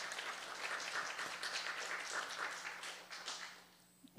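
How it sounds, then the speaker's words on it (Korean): A church congregation at a Sunday youth service applauds to thank the pastor. The clapping is sustained and faint, as if heard from a distance, and it thins out and fades near the end. "감사의 박수 부탁드리겠습니다"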